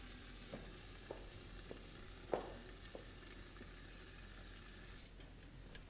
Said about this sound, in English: I'm opting for the more traditional method of frying an egg, using heat and some oil